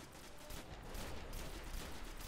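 Dense, continuous rapid gunfire from the PS4 video game Destiny: overlapping bursts of shots blur into a steady volley, with no talking.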